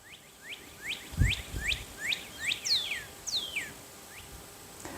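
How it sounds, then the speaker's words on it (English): Several quick, rising and falling chirps repeat in a steady series, like small birds singing at a moderate distance, with a brief low thump midway. "I don't know if you guys can hear those birds"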